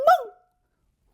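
A single short bark, voiced by a person imitating a dog, followed by silence.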